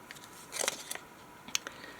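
Scissors snipping through paper for a collage, a few soft, close crisp cuts in two short clusters over a quiet background.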